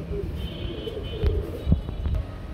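Soft, low coos from running pigeons at a pigeon market repeat a few times close by, over a murmuring background with some faint voices.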